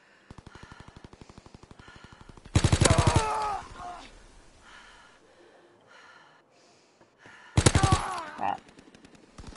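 Call of Duty video game gunfire: a rapid automatic burst rattling at first, then two loud heavy volleys separated by quieter gaps with breathing.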